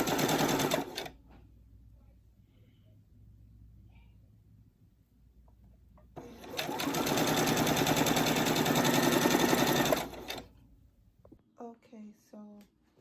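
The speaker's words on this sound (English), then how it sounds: "go back stitch and start sewing again" A sewing machine stitches fabric for a two-color ribbon tutu in two close, loud bursts, a short run at the start and a longer steady whir of about four seconds, with quiet pauses between and a voice speaking briefly at the end.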